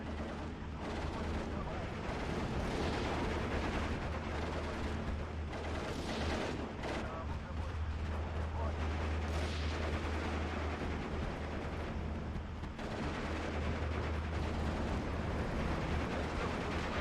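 Mortar artillery fire in the Steel Division 2 strategy game, a steady wall of booming shots and rumbling impacts that never lets up, with a voice speaking over the battle noise.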